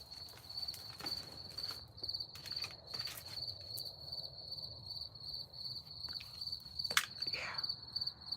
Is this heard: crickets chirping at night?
yes